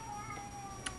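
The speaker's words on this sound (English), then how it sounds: "Shut up, cat!" A pet cat gives a short, faint meow indoors, brief and soft against quiet room tone.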